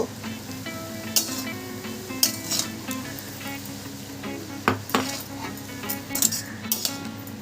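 Radish greens with turmeric and salt are stirred and tossed in a pan, with soft sizzling underneath and sharp metallic spatula scrapes and clinks against the pan at irregular intervals, close up.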